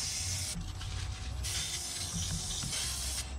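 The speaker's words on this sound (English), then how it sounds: "Gonna spray a little bit of brake cleaner." A steady brake cleaner aerosol spray hisses in short bursts, close by, with brief pauses between sprays, on a BMW E90 325d engine.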